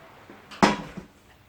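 A door shuts once in a home setting, a single sharp, fairly loud knock with a brief rattle, heard alone with quiet before and after.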